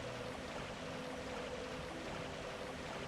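Steady, dense wash of bubbling water from a little water-bath effect in the Dark Souls video game, continuous and fairly loud, filling the whole stretch without pause and with no talking over it.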